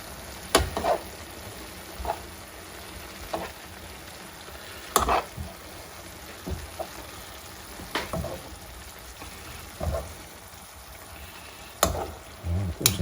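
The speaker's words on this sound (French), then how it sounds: "pendant la cuisson, je vais retourner mélanger un petit peu" Homemade sauerkraut fries in a pan, a soft continuous sizzle broken by repeated scrapes and clinks of stirring at irregular intervals, close and fairly quiet.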